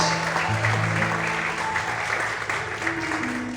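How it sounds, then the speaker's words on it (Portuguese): A church congregation claps more vigorously, with thick, continuous applause over held low musical notes and a faint murmur of voices, steady and fairly loud. "Mais forte as palmas, aleluia!"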